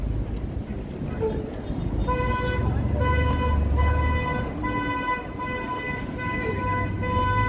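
A city bus honking repeatedly in downtown traffic, several sustained horn blasts sounding mid-distance over rumbling engines and street noise, with a person speaking briefly in between.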